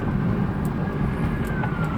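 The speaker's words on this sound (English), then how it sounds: "You probably hear them sirens now." Emergency vehicle sirens pass outside over steady road traffic noise, a faint wailing tone rising and falling behind a continuous low rumble.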